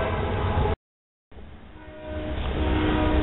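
A freight train rumbles steadily, with a long horn tone sounding over the noise; the sound briefly cuts out, then returns louder as the train passes.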